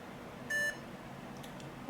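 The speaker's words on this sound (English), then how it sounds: "Oh, we got a little short beep from the PC." An HP EliteDesk 800 G4 mini PC gives a single short, clean electronic beep, faint against a quiet room hum, with nothing else happening.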